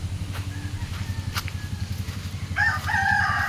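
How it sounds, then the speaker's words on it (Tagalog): A rooster on a provincial farm lets out a loud crow near the end, over a steady low background of hens clucking and murmuring close by. "Ito po yung ating mga manok."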